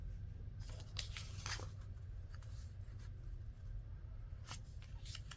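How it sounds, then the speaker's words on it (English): Paper journal pockets being folded in half by hand, soft crinkles and creasing swipes in a few scattered bursts over a low steady hum, quiet and close. "So we're just going to fold these in half."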